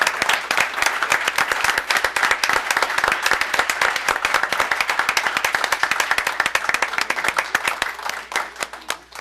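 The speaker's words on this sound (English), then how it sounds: "please give a big round of applause" Audience at a town board meeting applauds an award presentation with sustained, dense clapping that holds steady for several seconds before thinning out toward the end.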